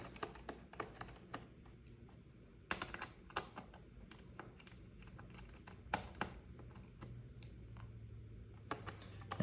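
Phillips screwdriver backing out the bottom panel screws of a 2022 Legion Slim 7i Gen 7 laptop, heard as quiet, close, irregular small clicks and ticks, some in quick runs, with no talking.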